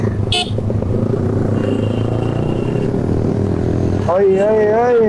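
Highway traffic hums around a KTM RC390 motorcycle on the move, with a constant engine and road drone, a brief horn near the start, and a voice speaking over it toward the end.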